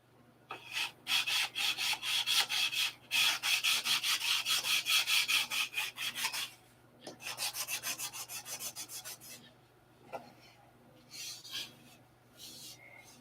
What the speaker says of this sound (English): There'll be much sanding going on here.